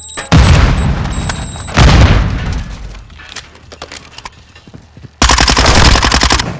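Loud game gunfire and explosive booms from a Semtex grenade fight in Call of Duty: Modern Warfare II, with three heavy blasts of dense shooting separated by quieter stretches of scattered shots.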